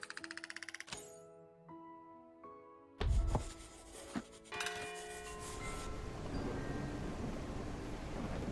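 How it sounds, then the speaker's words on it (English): Heavy rain and thunder in the colony-building video game Whiskerwood, a low rumbling crash followed by a steady dense hiss of rainfall that builds and holds, with chiming game music tones at the start. "And heavy rain."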